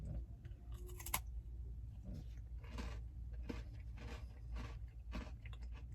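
Close, quiet crunching and biting as peanut butter and crackers from 1982 are eaten, a series of crisp chews over a steady low background hum.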